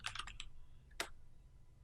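Fingers tap a computer keyboard in a quick burst of keystrokes, then one firmer key press lands after a brief pause, close and quiet in an otherwise still room.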